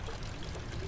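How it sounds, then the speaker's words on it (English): Water pours from a loose, leaking pipe in the game Amnesia The Dark Descent, a brief, steady gush of running water, close and fairly full, with no speech. "One pipe is loose and leaking water."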